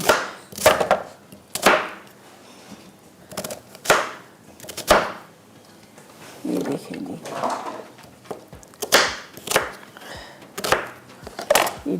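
Knife chopping onion and fresh coriander on a board, heard as irregular bursts of sharp close taps spread through the clip, with a voice talking between them.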